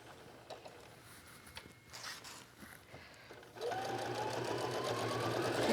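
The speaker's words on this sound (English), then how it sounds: "I'm going to sew with a 1/4 inch seam allowance here." A domestic sewing machine stitches a fabric wallet with a quarter-inch seam, starting with a backstitch: soft intermittent whirring and clicking at first, then a steady, louder continuous motor hum with rapid needle chatter, close up.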